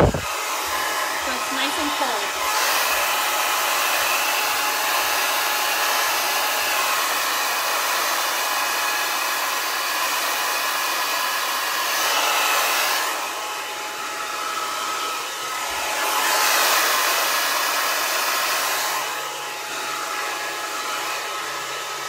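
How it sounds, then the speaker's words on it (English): A Lange Le Compact hair dryer runs continuously with a loud airy roar, its pitch and intensity shifting slightly as it moves. "That was the Le Compact blow dryer by Lange"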